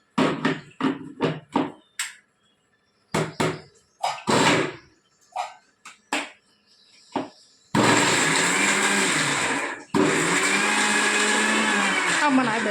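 A small kitchen mixer grinder whirring loudly in two steady bursts with a brief pause between, preceded by knocking and bursts of talk.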